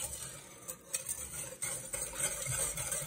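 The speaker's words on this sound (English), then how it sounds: "I'm just gonna whisk this up" A whisk stirs a turkey brine with black pepper in a pot, giving soft irregular clinks and swishes of metal against the pot, fairly faint and close, with no voice.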